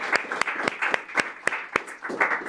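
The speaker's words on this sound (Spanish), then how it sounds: "Un aplauso para Constanza." Brief applause from a modest audience at a university lecture in Chile, a few hands clapping in a quick, even rhythm, close and moderately loud, with no talk over it.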